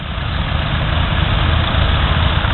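A 1963 four-wheel drive tractor with a roughly 95 horsepower engine idles in a steady, loud, low rumble, close by and unbroken, with no talk over it.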